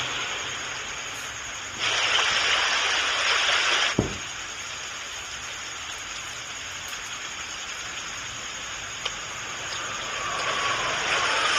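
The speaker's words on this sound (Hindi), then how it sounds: "मुझे इस बारिश से बचना ही होगा।" Steady rain falls and patters on surfaces, a dense, constant hiss that swells louder for a couple of seconds, with a single sharp knock partway through.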